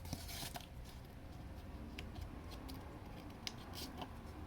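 Quiet, close snips and rustling as thin blades cut through material, a few sharp clicks scattered among soft scraping.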